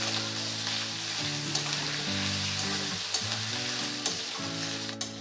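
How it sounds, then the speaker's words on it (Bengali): Ginger and garlic paste frying in a pan for a prawn and radish dish, giving a dense, even sizzle with occasional stirring taps, close and steady, with a low hum underneath and no talk. "দিয়ে আদা রসুনটা ভালো করে একটু ভেজে নেব, যাতে আদা রসুনের কাঁচা গন্ধটা না থাকে।"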